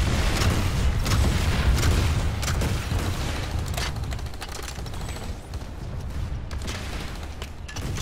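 Striker rocket launcher in Planetside 2 fires and unloads amid a continuous wash of battle noise, dense booms and rattling gunfire, with sharp impacts spread through a steady, loud roar.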